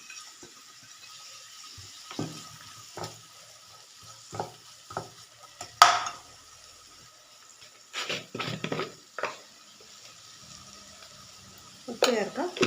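Onion, spring onion and two green chilies being sautéed and stirred in a pan for a tomato fish curry, with soft sizzling under a series of distinct stirring scrapes and clinks, louder bursts near the middle and end.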